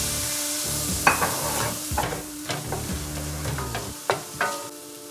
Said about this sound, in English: the peppers have been sauteing for a minute or so. We're adding our tomatoes.